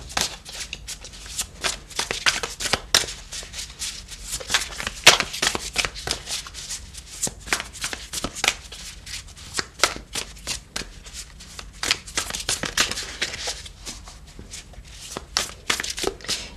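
Tarot cards are shuffled by hand in repeated quick riffles and soft flicks, close and crisp, with a continuous papery rustle throughout.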